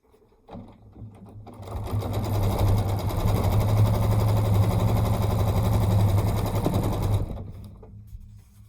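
A domestic sewing machine stitching through a small quilt in a rapid, continuous mechanical chatter that starts after a couple of short taps, holds steady for several seconds, then stops, close and alone.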